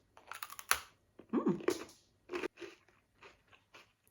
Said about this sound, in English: So they're crunchy, like, you know, gingerbread cookies should be.